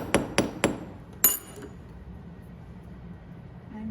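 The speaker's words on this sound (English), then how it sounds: "hammer this part out" A finishing hammer flattens a wire earwire with three quick, bright metallic taps and one more after a pause, close and crisp, followed by quiet.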